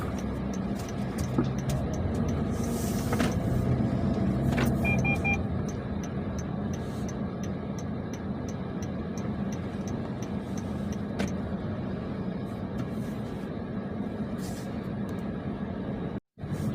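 A car drives along, heard from inside the cabin: a steady low road rumble and engine hum runs throughout, with a few faint clicks and small beeps over it.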